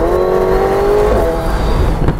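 A Formula One racing car accelerates hard, its engine whine climbing steadily until one quick gear shift drops the pitch and it builds again, loud and close.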